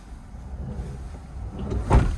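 A campervan door is handled on a windy campsite at Allihies, Ireland. A low rumbling shuffle builds, then a single solid thump lands near the end, close and fairly loud, with no talking.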